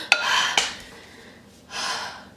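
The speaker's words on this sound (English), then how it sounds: "we're gonna mix this in with a fork because I literally cannot use a whisk" A fork mixes batter in a bowl in a few short bursts of clinking and scraping, separated by quieter moments and soft breathing.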